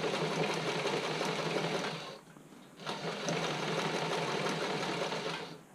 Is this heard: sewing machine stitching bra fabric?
yes